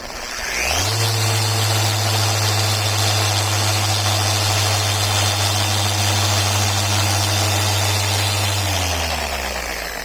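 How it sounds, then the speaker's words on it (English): A rotary polisher spinning a brush on a boat hull starts up and holds a loud, steady mechanical hum close by, then winds down near the end. "I just grabbed my brush, got my polisher on about level 4 or 5, and I'm just going to let her spin."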